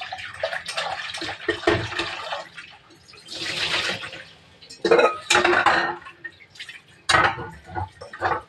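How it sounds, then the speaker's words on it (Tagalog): Vegetables with soil still clinging to their roots and leaves are rinsed in a basin, with irregular bursts of splashing and sloshing water and occasional clinks of the container. "hugasan mo ng maigi kasi may mga lupa. Pati yung dahon."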